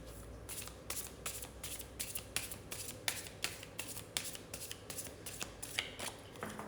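A deck of cards is shuffled repeatedly at close range, a rhythmic series of crisp riffling bursts about twice a second, fairly quiet with no talking.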